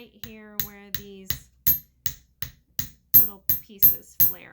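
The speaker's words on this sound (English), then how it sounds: "I'm going to do a little bit extra hammering right here" A small hammer taps wire for a beaded earring in a steady series of about a dozen sharp, close metallic strikes, evenly spaced, with one brief ringing tone near the start.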